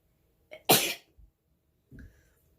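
A woman's single sharp sneeze indoors, short and explosive, followed by a faint breath and a brief small vocal noise afterward.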